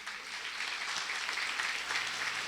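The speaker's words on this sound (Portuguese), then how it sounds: "Aplauda bem forte ao Senhor." A church congregation applauds together, a dense, steady wash of many hands clapping that fills the room with no voices on top.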